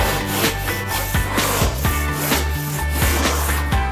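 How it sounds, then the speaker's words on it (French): Rhythmic back-and-forth hand sawing through plasterboard, a steady series of rasping strokes close by, with no talking. "découpez la plaque à l'aide d'une scie"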